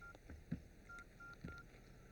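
Telephone number being dialed, heard as a handful of short, evenly spaced keypad beeps, faint and clean against quiet background noise.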